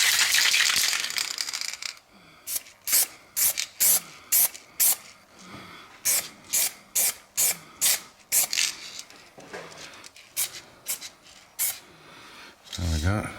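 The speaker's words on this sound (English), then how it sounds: "give that a spray. So it'll just be a light coating of primer" An aerosol can sprays black primer onto Jaguar independent rear suspension and radius arm bush parts: about a dozen short, close hissing bursts in a quick, uneven rhythm, with brief quiet gaps between them.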